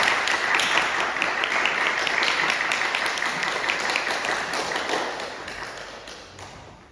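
A church congregation applauds to welcome a pastor at a revival service: dense, steady clapping fills the room for several seconds, then gradually thins and fades toward the end.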